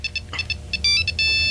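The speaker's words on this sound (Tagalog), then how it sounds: "Ngok cellphone." A cellphone ringing at home, with short repeated electronic tone bursts building into a sustained bright ringtone, close and clear, with no talking over it.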